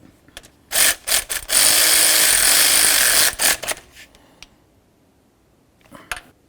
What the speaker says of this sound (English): Get that mounting nut on there. Snug it up.